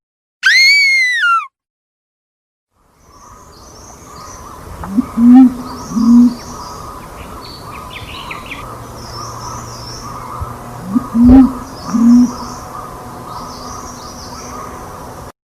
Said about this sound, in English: Listen to this scream and the cooing of a pigeon.